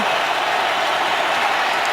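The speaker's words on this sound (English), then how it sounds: "Crowd roaring." Dense, steady roar of a stadium crowd at an NFL football game between the Seahawks and Cardinals, a loud continuous wash of cheering voices with no breaks.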